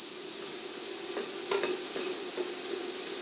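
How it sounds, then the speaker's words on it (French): Onions sweating in a hot pan for lentils with lardons, a steady close sizzle with a few light clinks and stirring scrapes scattered through it, no voices. "On va faire suinter nos oignons."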